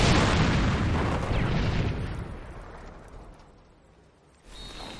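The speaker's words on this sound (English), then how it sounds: "Two mines just went off simultaneously from Lollipop" Two mines detonate together in a strategy video game, a loud booming blast that rolls and fades over several seconds before a brief renewed rumble.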